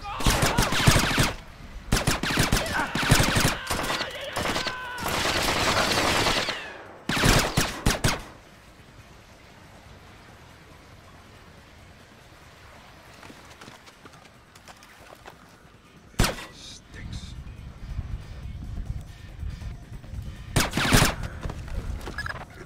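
Loud, close bursts of rapid gunfire in Splinter Cell Chaos Theory, with several sharp volleys early on, then a long quiet stretch, then more shots and bursts near the end.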